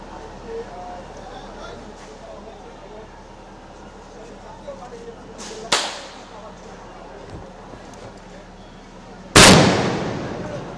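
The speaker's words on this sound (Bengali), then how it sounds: "এখান থেকে আমরা পুলিশকে দেখছি সাউন্ড গ্রেনেড নিক্ষেপ করে তাদেরকে" Police sound grenades go off during street clashes at a political rally, with two loud sharp blasts several seconds apart over crowd noise and distant voices.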